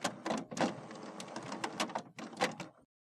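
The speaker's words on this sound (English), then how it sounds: "Wait for the printer to turn on and stop making noise." An HP Officejet 6700 Premium printer's mechanism whirs and clacks as it powers on after a carriage jam is cleared, with irregular bursts of motor and paper-feed noise, then falls silent.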